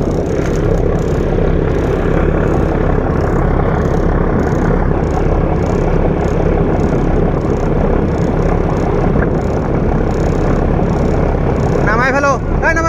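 A motorbike is ridden across a low bridge. Its engine drones loudly and steadily the whole time, close by, with a rough, constant rumble and wind noise.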